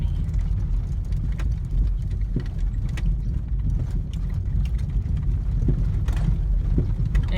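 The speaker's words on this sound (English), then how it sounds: "Just driving down this bumpy old road, that's why you need a Volvo for this kind of stuff." A Volvo car drives down a bumpy old road, giving a continuous close, low rumble with scattered knocks and rattles from the suspension and body.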